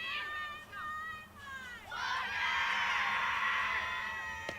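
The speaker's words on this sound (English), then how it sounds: "The Rich Mountain dugout getting loud, cheering on its heavyweight hitter" Softball players in a college team's dugout cheering and shouting loudly for their batter during a district tournament game, a sustained burst of high-pitched voices with an announcer talking earlier.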